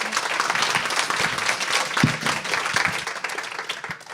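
A live startup-pitch event audience breaks into steady, dense applause, a continuous wash of clapping at close range with no voices over it.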